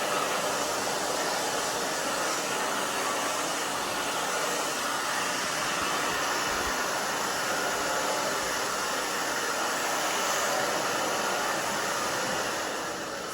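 Steady, loud hair dryer whooshing through a salon pixie haircut blow-dry, a continuous broadband rush with no talk over it.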